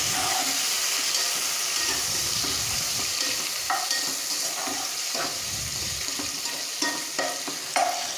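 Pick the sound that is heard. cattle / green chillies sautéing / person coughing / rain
green chillies sautéing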